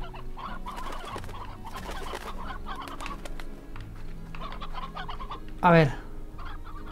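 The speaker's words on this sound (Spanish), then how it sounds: "Sí, tenemos 10 gallinas." Chickens cluck in the video game Slime Rancher, soft repeated clucks under a Spanish-speaking voice, with one louder, sharper squawk near the end.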